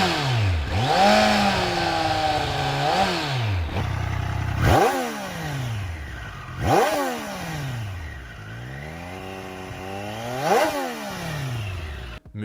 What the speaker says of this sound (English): Let's also have a listen to the stock exhausts of each, as both bike makers claim to have tuned their exhaust notes.